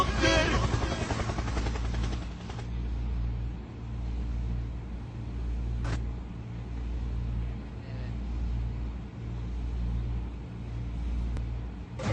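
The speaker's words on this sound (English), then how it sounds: "Helicopter, helicopter." Steady low rotor-like drone of a helicopter flying overhead, continuous and fairly loud throughout with a brief burst of noise at the start and faint background voices.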